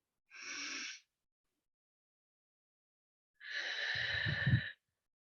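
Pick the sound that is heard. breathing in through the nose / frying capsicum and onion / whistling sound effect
breathing in through the nose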